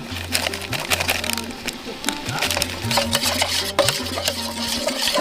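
Spice powders stirred into hot water in a pot for village-style mutton curry, a rhythmic repeated scraping and sloshing with a low mechanical hum underneath, close and fairly loud.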